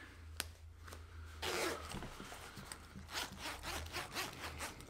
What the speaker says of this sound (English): zipper runs nice and it seems to fit